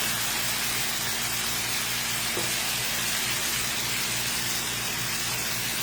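Chicken sears in a frying pan for lemon chicken, a steady, even hiss and sizzle that runs unbroken throughout, close and fairly loud with a faint low hum beneath.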